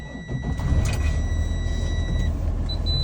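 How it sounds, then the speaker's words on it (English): A truck engine idling low and steady just after starting, a heavy continuous rumble with a faint high tone above it, no talk. "Now I'm gonna start the vehicle up."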